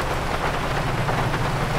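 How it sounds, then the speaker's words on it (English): Rain in the GTA 5 video game, running with a graphics mod, makes a dense, steady hiss of falling drops that stays even and fairly loud throughout, alone with no voices. "And also rain is just like that."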